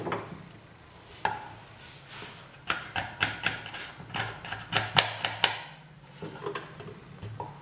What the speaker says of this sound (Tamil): இதுக்கு முதல்ல கொஞ்சம் வெங்காயம் நறுக்கலாம்.